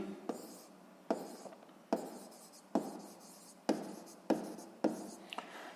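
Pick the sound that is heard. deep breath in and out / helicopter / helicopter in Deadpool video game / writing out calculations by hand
writing out calculations by hand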